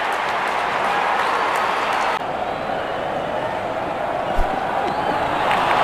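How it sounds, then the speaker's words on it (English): A stadium crowd cheers in the video game Real Cricket 22, a steady, broad roar of many voices holding at one level throughout, with a commentator's voice over the top. "Openers walking in and the crowd cheering in anticipation."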